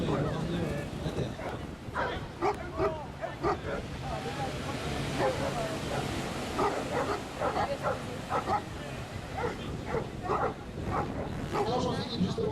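Dogs bark and yip repeatedly during a water retrieval exercise at a wind festival in Carolles, the dog fetching a bite sleeve from the water and bringing it ashore, with people talking throughout over steady outdoor background noise.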